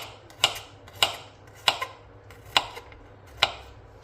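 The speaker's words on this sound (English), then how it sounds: "just chopping away." Knife chopping food for a ragu, five or six sharp, evenly spaced thuds on a board at close range over a quiet background.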